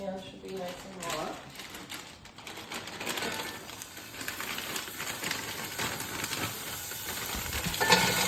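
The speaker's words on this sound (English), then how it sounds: "So now we're going to throw our mushrooms in. The pan should be nice and hot." Shiitake mushrooms sizzling in a hot pan, a broad continuous frying hiss with stirring and scraping under a person talking.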